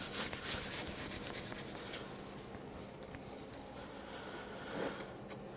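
Rubbing and sanding on a Stanley 55 plane part, a steady close scratchy abrasion that continues for several seconds without voices, its strokes blurring together with slight surges.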